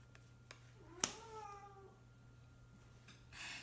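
A pet cat gives a single drawn-out meow in a quiet indoor room, faint and nearby, with a soft click just before it and some light rustling afterward.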